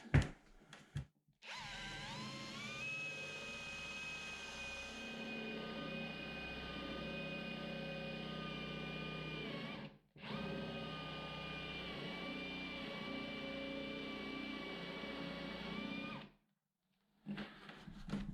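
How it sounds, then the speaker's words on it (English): A power drill with a 25 mm countersink bit cutting holes for M10 bolts in the wood of a workbench: loud, steady whining runs broken by a short pause and ending abruptly, with clunks at the start. "with the M10s, I'm using a 25 millimeter countersink"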